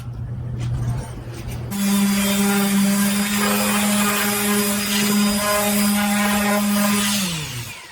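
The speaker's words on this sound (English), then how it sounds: "now we're going to go ahead and sand this down with 120 and 220" A power sander works a wooden drink coaster with 120 then 220 grit, a loud steady motor whine that starts after a quieter moment and runs continuously before winding down.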